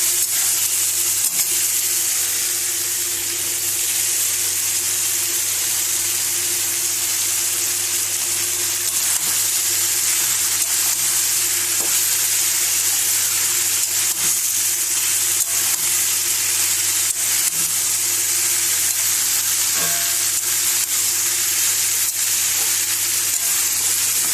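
Cauliflower stalks fry among vegetables in a pan, giving a steady, even sizzle and hiss that holds without pause, with faint occasional stirring clicks.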